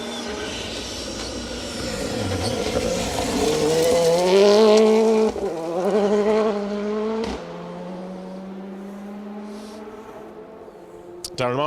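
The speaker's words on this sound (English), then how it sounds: "Darren Martin and Daniel Hurst then in the Fiesta R5 making their way, car 55 making their way through the stage" A Ford Fiesta R5 rally car, car 55, revs hard through a gravel-forest stage of the Carlisle Stages Rally, engine note climbing and dropping through gear changes as it passes close and then fades, with a commentator talking over it.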